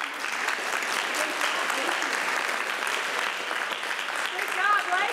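A campus leadership event audience applauds to welcome a speaker, sustained dense clapping from a sizeable crowd that stays even throughout and swells slightly at the end.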